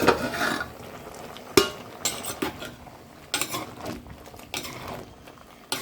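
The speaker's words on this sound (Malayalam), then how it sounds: "ഇടയ്ക്ക് ഒന്ന് ഇങ്ങനെ ഇളക്കി കൊടുക്കണം," Aviyal vegetables stirred in a pot with a metal spoon, giving soft scraping and irregular clinks of utensil against the pot, close and fairly quiet with no talk.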